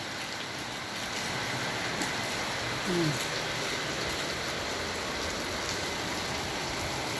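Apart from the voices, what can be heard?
rain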